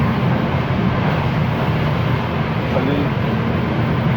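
A steady, loud low rumble of a moving train fills the space while someone speaks nearby.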